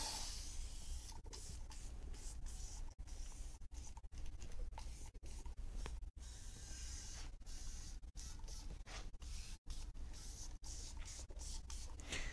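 Foaming cleaner is sprayed onto the aluminum chassis parts of a BMW i8 in a series of close, hissing bursts separated by short pauses, quiet overall and without talk.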